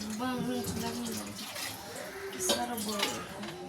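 Water runs steadily into a container with a continuous hiss, while a voice speaks intermittently over it.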